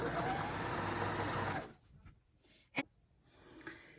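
A sewing machine runs a straight line of stitching along the folded bottom hem of a fabric surgical scrub cap, a steady dense whir for about a second and a half that stops abruptly, leaving near silence with a single sharp click.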